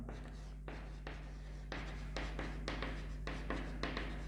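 Marker or chalk strokes scratch across a board during a math lesson on differentiation, a series of short, brisk scrapes in an irregular rhythm over a low steady hum.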